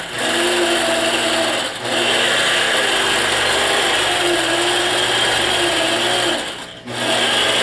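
A sewing machine runs loud and nearly continuously while stitching quilt batting, pausing briefly twice, with steady background noise underneath.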